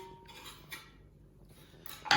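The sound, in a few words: stirring fresh coriander through chicken and spinach curry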